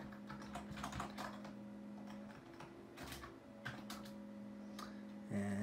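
Computer keyboard typing while coding a Java text game, a steady stream of close, crisp key clicks in irregular bursts with a faint constant hum underneath.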